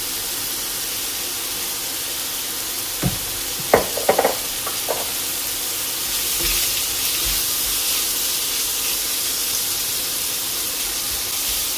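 Chicken frying in oil in a pan, with a steady soft sizzle and hiss throughout, broken early by a few short knocks and stirring clatters, then a slightly louder sizzle after more oil is added.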